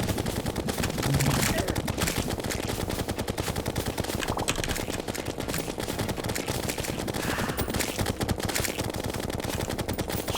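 Gunfire in the video game Terraria during a Queen Slime fight, rapid continuous machine-gun-like shots rattling steadily and loudly for the whole stretch with no pauses.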